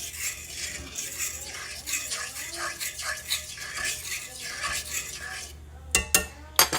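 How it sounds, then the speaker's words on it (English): A fork stirring homemade milk gravy in a pot to break up a flour lump, giving soft repeated scraping and swishing, then a few sharp metallic clinks against the pan near the end. "Let me take this fork and see if I can get it out."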